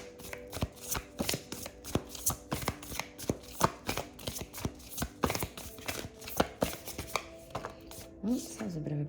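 Repeated crisp riffles and taps of a deck of cards being shuffled, close up, in quick irregular bursts, with a brief voice near the end.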